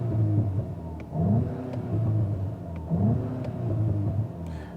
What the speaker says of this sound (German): im Leerlauf auf dem Sportmodus ein bisschen Gas geben